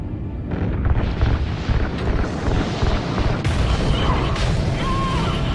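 Weapon fire and explosions from the video game Call of Duty Ghosts: loud, continuous rumbling booms and blasts, with sharp bursts stacked on top and no voices.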